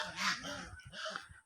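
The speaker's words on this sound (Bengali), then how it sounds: "এখানে রাজহাঁস আছে, এই জন্য রাজহাঁসের ডাক শুনতে পাচ্ছেন।" Geese honk on a farm where a cow is giving birth, a short burst of a few nasal honks at moderate distance against faint background noise.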